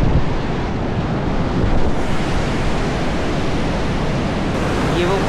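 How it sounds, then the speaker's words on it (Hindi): Fast-flowing river water beside Jaglot Skardu Road makes a loud, steady, broadband roar that fills the whole clip without pause, mixed with wind buffeting the microphone. "आप पानी की स्पीड चेक कर सकते हैं कितनी तेज़ी से जो है वो पानी बह"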